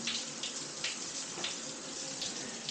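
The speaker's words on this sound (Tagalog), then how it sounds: "Gumagana ang shower. Kita nyo naman. Malakas ang tubig." A shower runs steadily in a campsite shower room, a constant hiss of spraying water with no talk over it, moderately loud and close.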